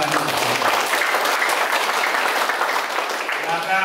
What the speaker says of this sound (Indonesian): Kita harus tepuk tangan untuk itu.